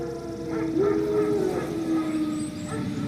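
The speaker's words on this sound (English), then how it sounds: "Wild dogs." Wild dogs in The Witcher 3 let out a single rising, wavering howl at middle distance, drawn out over a steady low ambient hum with no talk.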